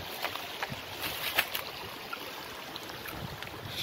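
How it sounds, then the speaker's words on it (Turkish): Water in a stream rushes steadily toward the Kocaçay waterfall in Döşemealtı, a continuous broad hiss with faint splashes, moderately distant and without voices. "su sesi gelmeye başladı"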